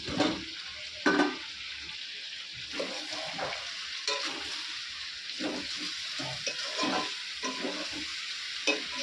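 Potatoes and spices are sautéed in a pan and stirred with a utensil, giving a steady sizzle and repeated scraping strokes close by, with no talking.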